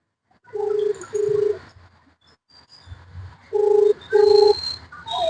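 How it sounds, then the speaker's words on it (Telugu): A phone call rings out as a repeated double-beep ringing tone, two short bursts, a pause, then two more, moderately faint with quiet background noise and no talking. "ఇప్పుడు వానికైతే ఫోన్ చేస్తున్నా"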